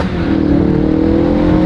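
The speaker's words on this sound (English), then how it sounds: "The RS comes factory with an exhaust system and tuning that makes it have some pops and bangs" A stock all-wheel-drive RS car engine revs loud and close through its factory exhaust tuned for pops and bangs, its throaty exhaust drone holding steady for a moment.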